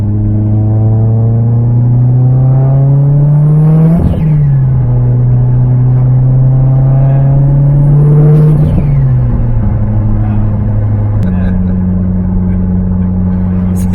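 A 622whp Mitsubishi Lancer Evolution X engine with an aggressive cam idles and revs loudly up close, its deep lumpy drone rising and falling through several throttle blips before settling lower.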